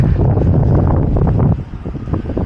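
Loud, steady wind buffets the microphone with a low, rumbling roar that eases slightly toward the end.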